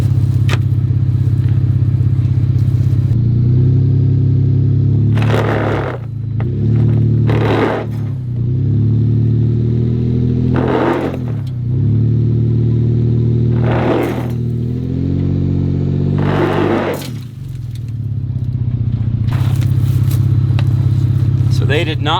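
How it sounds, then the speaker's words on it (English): A vehicle engine revs hard in repeated bursts as its tires spin and grind on budget Amazon traction boards, with scraping and clatter riding over a loud, steady engine drone for the whole stretch. "It just grinded these down even more than before."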